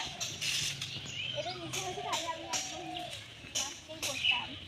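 A pair of spotted doves coos softly in an open village field in Bangladesh, with low, gentle repeated calls mixed with faint chirps and rustling clicks. The birds sound quiet and somewhat distant.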